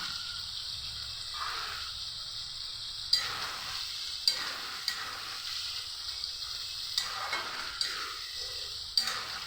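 A little water goes into spice paste of onion, ginger, green chilli, chilli powder, coriander and cumin frying in a pan for rohu fish curry with drumsticks. It makes a soft, steady sizzle marked by sharp periodic clicks and stirring scrapes.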